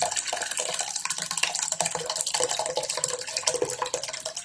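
Whey from split cow milk straining through cloth for paneer, a continuous pouring and trickling of liquid with splashy drips, close and moderately loud, without talk.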